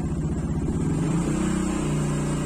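A motorcycle or car engine turns over on its electric starter and catches, a loud close rumbling churn with rhythmic pulses settling into a running idle.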